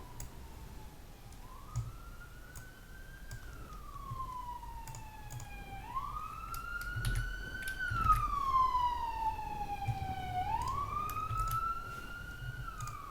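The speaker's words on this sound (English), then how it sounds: "Hope whoever's in that ambulance car is okay" An ambulance siren wails outside, its pitch sweeping up and down in repeated cycles. It swells louder toward the middle as it passes, over a low background rumble, with no talking.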